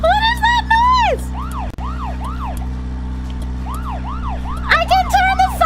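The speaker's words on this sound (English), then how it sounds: "I can turn the sirens on!" Video game emergency vehicle sirens wail in repeated rising and falling sweeps over a steady low engine hum, loud and close, with no talk.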